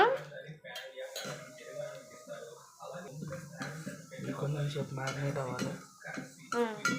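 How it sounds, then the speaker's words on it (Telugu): Oats being stirred with sour buttermilk in a bowl, giving light clinks and scrapes of a utensil against the dish under ongoing conversation. "పుల్లటి మజ్జిగ అయితే వేసి మిక్స్ చేస్తున్నాడు అనమాట"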